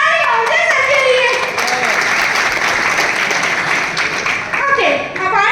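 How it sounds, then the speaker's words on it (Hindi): An audience at a live talk bursts into warm applause, dense clapping that holds steady for several seconds with crowd voices mixed in, loud and close. "तालियां हो जाए सबके लिए"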